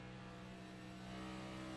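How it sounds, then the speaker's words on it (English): A stock car engine revs steadily at a distance on the Charlotte oval as the driver drops to fourth gear entering turn three, its tone held even and slightly rising. "He'll drop it back down into fourth gear."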